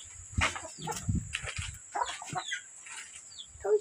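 Backyard chickens cluck in short, irregular bursts close by, a few soft calls and rustles spread across a few quiet seconds with no talking.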